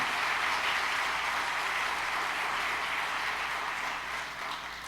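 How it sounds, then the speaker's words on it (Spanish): A church congregation applauds during a Spanish-language service, a sustained wash of many hands clapping at a steady level before a sudden sharp sound at the very end. "Fuerte palmas al que vive para siempre."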